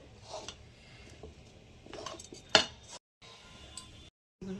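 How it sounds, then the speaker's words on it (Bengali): Rice flour and semolina dough being mixed by hand in a bowl makes soft, irregular kneading and scraping sounds with occasional clinks of the bowl, one sharper knock partway through, and brief silent gaps. "চালের গুঁড়ো আর সুজি এর মধ্যে দিয়ে মাখিয়ে নেব।"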